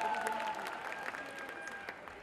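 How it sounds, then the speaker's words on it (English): An audience at a Zumba stage event claps in a brief, moderately loud burst of scattered applause, thinning slightly toward the end with faint voices mixed in. "Round of applause, please."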